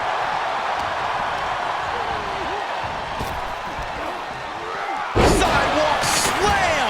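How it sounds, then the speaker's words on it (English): A wrestler's sidewalk slam crashes onto the ring in the WWE 2K25 video game, a sharp heavy impact late in the scene over crowd noise and commentary. "Sidewalk slam! Almost drove him through the ring."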